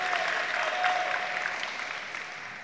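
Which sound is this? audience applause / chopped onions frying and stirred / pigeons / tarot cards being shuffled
audience applause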